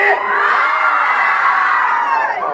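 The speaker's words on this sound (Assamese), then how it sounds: "অকল গেলাৰী ৰাইজে চিঞৰিব বোলে আহ হৰি।" A gallery crowd at a stage show in Charaibahi, Morigaon shouts and cheers loudly, a continuous mass of whoops and yells rising together, with children's voices among them.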